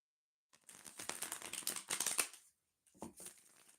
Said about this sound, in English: See how fast these cards are turning over and I did not even fully shuffle?